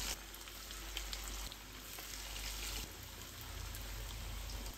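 Bread-dipped fish pieces frying in hot oil for a peri peri fish fry, a steady close sizzle and crackle with a few soft pops and stirring sounds, no voices.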